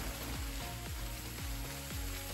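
Bacon or kielbasa fries in a pan with a close, steady sizzle and crackle, with small pops scattered throughout.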